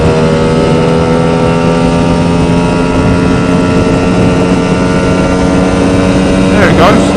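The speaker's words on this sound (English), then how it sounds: "You can hear it picking the revs up" A Lambretta scooter's 260 Simonini engine in an MMW KillerCase drones steadily and loudly while climbing a hill at 6,000 rpm in fourth gear, its pitch holding high under load with no letup; a brief voice-like sweep rises near the end.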